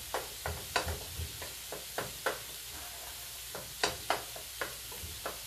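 Eggs scrambled in a wok for fried rice, with a steady soft sizzle broken by repeated sharp scrapes and taps of a spatula against the pan at an uneven rhythm, close and clear.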